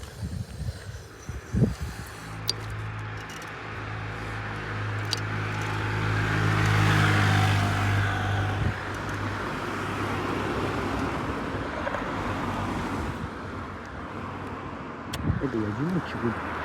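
Road traffic passing near an electric scooter on a street, a car swelling up and fading away over wind rumble, with people talking throughout.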